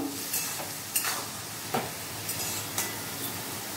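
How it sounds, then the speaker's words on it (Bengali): Bottle gourd being stirred and mixed in a frying pan, a steady frying sizzle broken by a few scraping strokes of the spatula at irregular intervals, close and moderately loud, with no voices. "এবার ভালো করে নেড়ে নেবো, এগুলোকে একসাথে মিশিয়ে নেব।"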